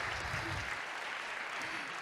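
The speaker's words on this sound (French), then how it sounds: "vous pouvez les applaudir au passage." An audience claps as several people are called up onto a stage at a French event, a brief burst of steady, fairly distant applause with a little low rumble at the start.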